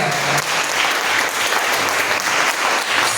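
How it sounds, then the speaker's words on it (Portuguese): Loud, sustained applause from a large church congregation, dense clapping that holds steady from start to finish. "Agora eu te convido a dar a mais forte salva de palmas ao Senhor Jesus"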